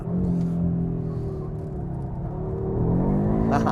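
An Audi RS3 or Mercedes-AMG A45 driven in Torque Rear mode gives a steady, close engine drone that climbs and falls slightly in pitch as the car accelerates, with a brief louder surge near the end.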